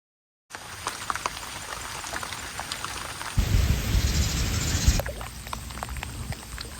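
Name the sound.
heavy rain falling on a Thailand farm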